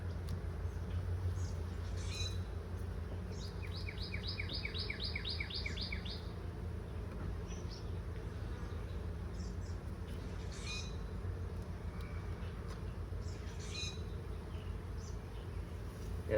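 Honeybees hum steadily around hive frames in a nine-frame box, a faint low drone under occasional bird chirps and short insect buzzes passing near.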